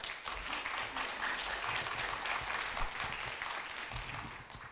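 A lecture audience claps steadily in welcome to a professor, a dense, even patter of many hands in a hall that stays fairly faint and never rises into cheering.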